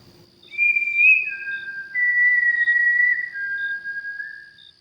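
An eerie drawn-out whistle for a horror story scene, two long wavering tones sliding slowly downward over a faint high steady hum, isolated with no voices.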